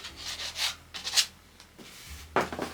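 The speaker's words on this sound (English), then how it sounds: "I'll just go back in and probably put some scraping lines just to again give some more texture." A tool scrapes texture lines into a painting made with Posca markers: four or five short, close, raspy strokes in irregular rhythm with quiet gaps between them.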